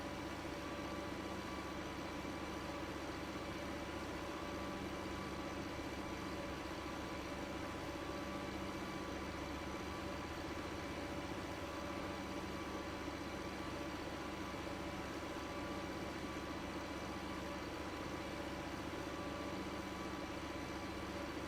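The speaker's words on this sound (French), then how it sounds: "J'aurais peut-être dû prendre un tracteur un peu plus puissant parce que celui-là il a un peu du mal, j'ai l'impression, avec la faucheuse." A tractor engine in the Farming Simulator 15 video game labors steadily while pulling a mower, a continuous, fairly quiet droning hum that holds unchanged for the whole stretch with no voices over it.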